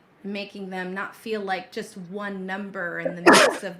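A single sharp sneeze bursts out near the end, close and loud, right after steady talking by a speaker.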